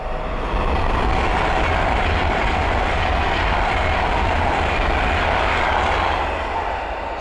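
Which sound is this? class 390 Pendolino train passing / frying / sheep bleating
class 390 Pendolino train passing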